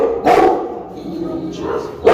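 A heavyweight dog from a dog show gives a few deep, loud barks close by, with crowd noise and talk in the background.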